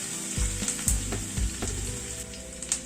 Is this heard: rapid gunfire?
no